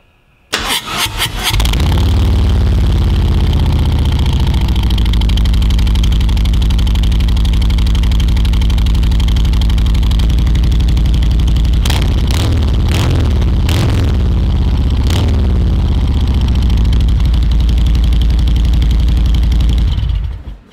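A 2022 Harley-Davidson Road King Special fitted with a Rinehart slip-on exhaust cranks and fires, then settles into a loud, deep, steady idle, with several sharp blips of revving in the middle before it shuts off.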